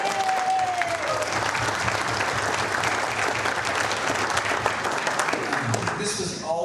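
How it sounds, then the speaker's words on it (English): A crowd at a celebration of life gives sustained applause, a dense, even roar of clapping close by that continues at full level, with voices mixed in near the end. "can I just get a round of applause for John Cassidy?"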